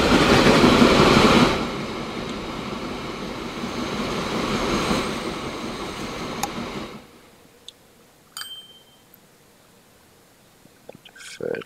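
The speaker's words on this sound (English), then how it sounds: "Little train drive and drive and drive." A toy-like train rolls along rails in the Transport Fever 2 video game, a steady rumbling clatter for several seconds that drops away abruptly, leaving quiet with faint clicks.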